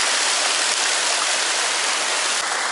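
A waterfall on the Yassy (Aksai) river roars in a dense, steady hiss of falling water, loud and close, with no voices.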